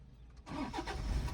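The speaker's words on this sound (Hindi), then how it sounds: "अब आप इंजन स्टार्ट करो" A diesel car engine cranks and catches after a brief quiet moment, then settles into a steady, close, rumbling idle inside the car.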